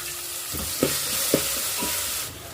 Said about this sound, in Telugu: నేనైతే ఇక్కడ పచ్చిమిర్చి పేస్ట్ వేసుకుంటున్నాను